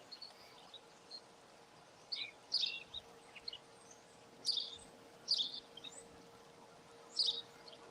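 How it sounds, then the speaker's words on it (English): Birds chirp in the background of a rural Lenawee County, Michigan setting: scattered short, high tweets arrive in brief clusters every second or so, faint and somewhat distant over a quiet hum. "I like the bird ambiance in the background."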